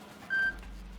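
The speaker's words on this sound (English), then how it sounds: "that was my phone" A single short electronic tone from a mobile phone notification, faint and clean against quiet room background, lasting a fraction of a second.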